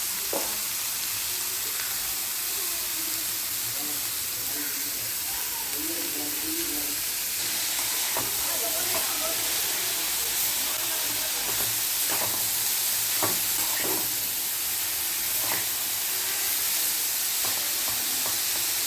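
Carrots fry in a pan with steady, loud sizzling and hiss, while a utensil scrapes and stirs in intermittent clicks; a voice speaks faintly now and then.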